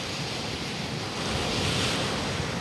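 Strong sea waves and wind roar close around a small fishing boat, a dense wash of surf noise that swells slightly midway, with wind buffeting the microphone.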